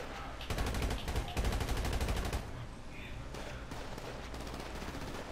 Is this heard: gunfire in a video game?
yes